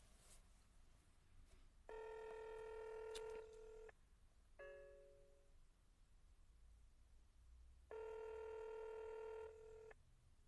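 A phone line sounds two long, steady electronic tones separated by a shorter, higher beep, with quiet hiss between them, faint and isolated with no voices.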